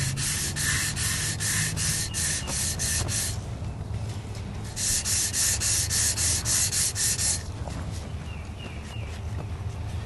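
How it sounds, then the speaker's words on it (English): Repeated back-and-forth strokes of light sandpaper rubbing on a wooden turkey call, coming in two steady bursts with a short pause between them, close up. "sanding it with a light sandpaper and always in the same direction"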